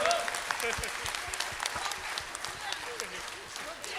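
A gathering at a Jain sant's religious discourse claps along, with sharp rhythmic hand claps rising over ongoing hall noise and voices, moderately distant and fairly even across the stretch.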